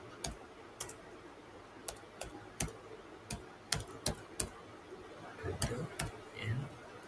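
Someone types C++ code on a computer keyboard, with irregular crisp keystroke clicks spaced out over several seconds, some in quick pairs, close and fairly quiet against a faint background hum.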